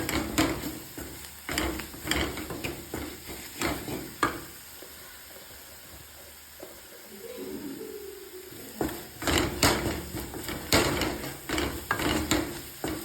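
Clam masala frying in a pan as curry leaves are stirred in, with a hiss of sizzling oil broken by sharp spoon scrapes and knocks against the pan, then a quieter simmering stretch before the stirring picks up again.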